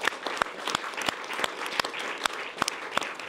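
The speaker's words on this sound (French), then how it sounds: "avec Arnaud et Martial, on peut les applaudir bien sûr." A crowd applauds steadily, dense clapping with a few sharper individual claps standing out, continuous throughout.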